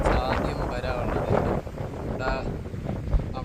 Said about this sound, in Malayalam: നല്ല കാറ്റും തണുത്ത കാറ്റാണ് ഗൈസ് ഇതിൻ്റെ ഏറ്റവും വലിയ ഹൈലൈറ്റ്